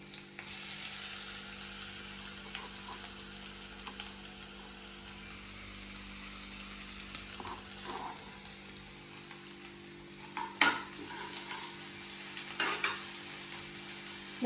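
Garlic sizzles steadily in a hot pan as it cooks for a dahi shimla mirch dish, a continuous frying hiss with a few brief louder clatters near the end and no talk.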